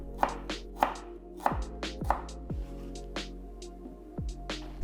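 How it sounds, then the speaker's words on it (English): A knife slices ginger on a cutting board in about eight crisp, evenly spaced taps with faint scraping between, close and clear with no talking. "Then slice ginger."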